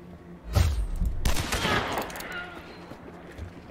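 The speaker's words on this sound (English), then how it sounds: "He shot me through that crack." Gunshots in Hunt: Showdown, a sharp loud report followed by a second heavy blast about a second later, each trailing off into a rolling echo that fades over the next couple of seconds.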